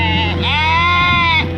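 A sheep on a crop and sheep farm in Wedderburn, northwest of Bendigo, Australia, gives a loud, close, sustained bleat with a wavering tone, alone and clear.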